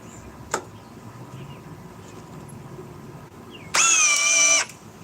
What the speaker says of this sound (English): Speed 2 with the Ryobi